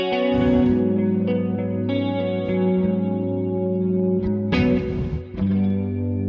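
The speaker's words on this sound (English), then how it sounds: "Obviously, chorus was used on it." An electric guitar tone with chorus modulation and some reverb plays sustained, shimmering chords and notes, several strummed attacks ringing out loud and close with no talking.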